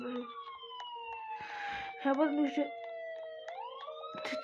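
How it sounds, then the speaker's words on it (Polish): Ambulance siren arriving in a Roblox hospital game, a steady wailing tone that glides lower and then sweeps back up, fairly quiet and continuous while a person speaks briefly over it. "Chyba karetka przyjechała"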